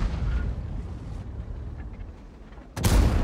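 Tank cannon armor-piercing shell penetrating an enemy tank in World of Tanks, fired from an Object 252U: a low rumbling battle din, then a sudden loud, broadband blast near the end.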